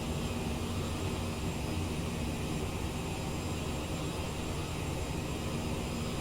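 A CRJ900 jet airliner cruises in flight, its engines producing a steady, loud, unbroken broadband roar that holds at the same level from start to finish with no voices.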